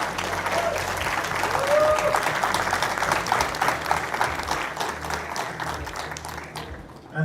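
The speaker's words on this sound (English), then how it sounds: "One big round of applause for Mark, who has traveled all the way from London" An audience at the SREday Hyderabad technical conference breaks into sustained, full-room applause, with dense clapping holding steady before fading away near the end.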